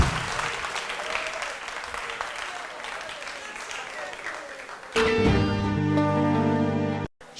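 An audience at a Guinean youth entrepreneurship contest applauds a competing team with dense, sustained clapping. Partway through, a loud musical jingle cuts in over the crowd and then drops out abruptly.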